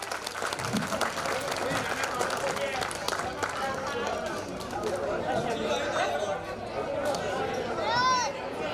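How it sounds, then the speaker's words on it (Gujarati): A crowd at a gathering claps continuously, a dense, steady wash of applause with chatter and voices mixed in throughout. "1 મિનિટ સુધી તાળીઓ પાડો"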